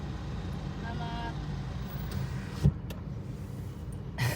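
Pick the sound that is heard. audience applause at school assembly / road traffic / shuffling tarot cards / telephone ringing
road traffic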